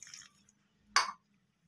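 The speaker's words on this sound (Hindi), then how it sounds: "फिर डाल लेंगे हम दूध और डालेंगे पानी" Milk and water poured into a blender for a banana apple shake, heard as a single brief splash and drip after a faint kitchen clatter, then quiet.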